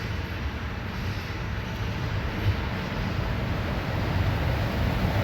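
A 2015 Hyundai Sonata 2.0 turbo blower motor spins on the bench during a test, giving a steady, even whirring rush of air that holds at one level for several seconds with no talk.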